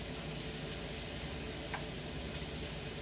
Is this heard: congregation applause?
no